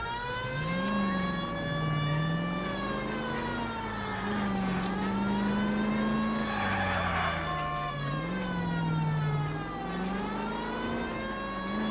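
A 1940s-style car speeds through a chase in a crime game, its engine droning and swelling as it accelerates and eases off. A wailing police siren rises and falls loudly over it the whole time.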